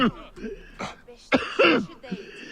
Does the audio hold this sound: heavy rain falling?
no